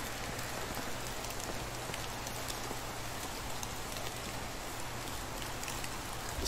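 Steady rain falls throughout in the medieval survival game Medieval Dynasty, a dense, even hiss of drops on surfaces with no talk over it.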